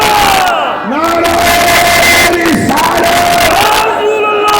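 Massed voices at a religious sermon shout a slogan back in repeated waves, a loud close roar with swelling cries rising and falling several times over a constant crowd din.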